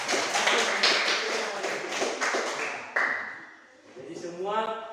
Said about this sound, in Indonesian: Berikan tepuk tangan untuk semua kelompok yang sudah mempresentasikan.